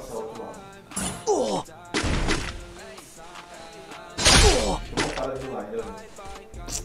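Gunfire in a first-person shooter match on the Kalahari map, with several sharp bursts of shots landing among bouts of excited talking, loud and close, the blasts spaced irregularly across the stretch.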